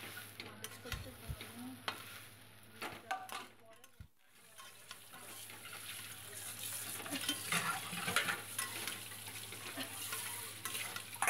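Scrambled egg being stirred into a pan of pointed gourd filling, with a utensil scraping and clicking against the pan over a steady low sizzle that grows slightly busier toward the end.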